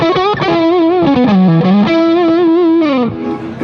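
An electric guitar played through two stacked J Rockett overdrive pedals for low-gain blues drive, giving loud, close, sustained distorted bent notes with a slight chorus shimmer and no talk.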